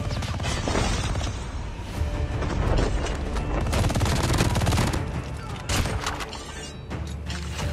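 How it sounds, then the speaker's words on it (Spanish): Rapid bursts of video game gunfire, including an MG 42 machine gun, crackle continuously, loud and close, with repeated volleys and brief lulls between them. "Puedo escuchar más disparos."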